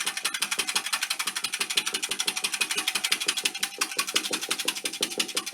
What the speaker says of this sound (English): and we'll give it a whisk